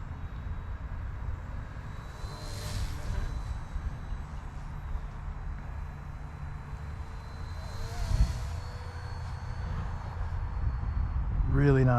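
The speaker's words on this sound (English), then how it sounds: "the sound of the blades is just enough to give you that full-size feeling." An Eachine E119 six-axis gyro RC toy helicopter in flight, its spinning blades giving a faint, steady low whir with a couple of brief swells as it passes closer, under soft background noise.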